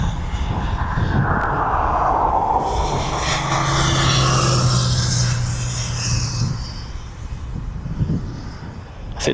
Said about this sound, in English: Ryanair Alicante is just turning onto the approach now.